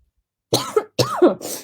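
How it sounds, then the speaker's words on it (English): Several harsh coughs come close together and loud, two or three quick bursts with short gaps between them, in an otherwise quiet room. "Can't stop coughing."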